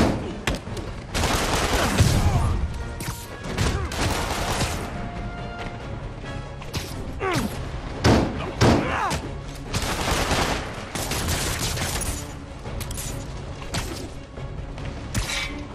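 Chaotic gunfire and impacts during a fight in Marvel's Spider-Man on PS4, with scattered shots, thuds and crashes layered over a dense, busy game soundtrack.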